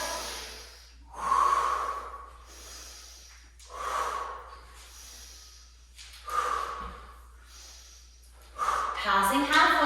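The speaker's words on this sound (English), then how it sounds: "we're going to inhale as we go down" Heavy rhythmic breathing during a cossack squat workout, with four strong loud inhale-exhale bursts spaced a few seconds apart, close and forceful, ending in a louder strained breath.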